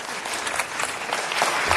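An audience claps for the Department of Public Works at a civic event, a short burst of dense, close applause from a crowd that stays steady and slightly grows.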